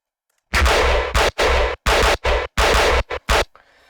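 A gun sample for tearout dubstep fires in a rapid series of about seven harsh, loud bursts with a booming low end, ending in a faint noisy tail, with no talk.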